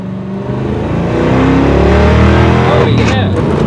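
A 302 V8-swapped Ford Ranger pickup on a 100-shot of nitrous makes a hard second-gear pull, its loud engine roar rising and building steadily and close by, with a rushing whine near the end and talk over it.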